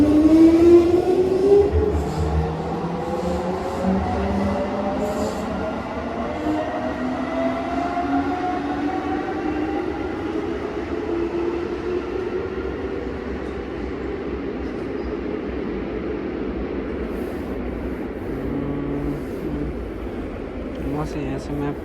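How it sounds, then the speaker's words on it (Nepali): An express train rumbles into a station, a loud steady roar of wheels and rail noise with rising and falling tonal whines, holding strong from start to finish without a break. "आयो मेरो ट्रेन"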